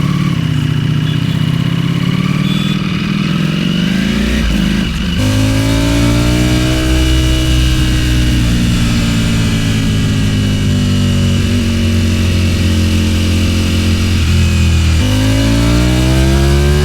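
Motorcycles, among them a Ducati, ride in a mixed group with cars on a road, engine drone loud and close with rising and falling pitch as the bikes shift gears and accelerate, no talk.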